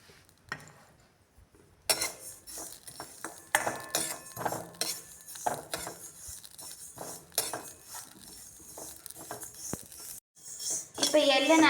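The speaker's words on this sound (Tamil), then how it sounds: "இப்போ எள்ளு வறுத்துக்கலாம்." Sesame seeds roast in a pan, with a spoon scraping and clinking against the metal in quick irregular strokes, close and crisp, and a brief stretch of sizzling crackle near the end.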